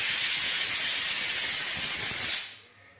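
A pressure cooker full of lentils (green gram) sends out a loud, steady hiss of steam for a few seconds, then quickly dies away.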